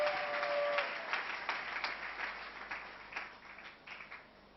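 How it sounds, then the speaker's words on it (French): A church congregation breaks into applause during a French-language service, a burst of clapping that peaks early and gradually thins and fades over several seconds, heard from within the hall. "Est-ce qu'on peut acclamer la parole de Dieu?"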